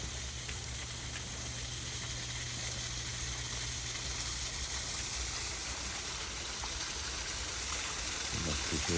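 A small waterfall in a Kyoto garden splashes and trickles in a steady, soft, continuous rush, faint and unbroken throughout.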